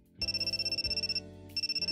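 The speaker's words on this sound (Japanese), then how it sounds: "うわ、向こうからかけてきた。" An incoming-call phone ringtone in the Amnesia Memories video game plays as a loud, steady electronic trill pulsing rapidly, pausing briefly, then resuming.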